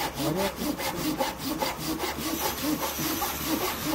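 A Japanese hand saw rasps steadily through wood in quick, even back-and-forth strokes, close and continuous throughout.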